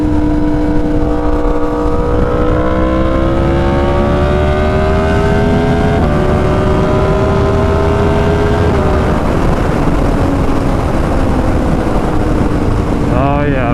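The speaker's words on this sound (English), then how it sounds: "It was basically like a little MotoGP megaphone style exhaust. It was very loud." A Yamaha R1 crossplane motorcycle fitted with an SC Project CR-T megaphone-style exhaust roars loudly and close. The engine rises in pitch through the gears, drops, and climbs again, with wind rush under it.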